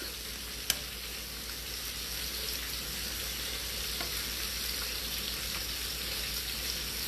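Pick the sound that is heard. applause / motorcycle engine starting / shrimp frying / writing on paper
shrimp frying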